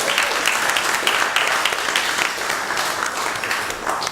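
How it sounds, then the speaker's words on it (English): A seated audience at a history talk gives a short, loud burst of continuous applause that stays dense throughout before tapering slightly at the end. "You can sit down now and take a round of applause."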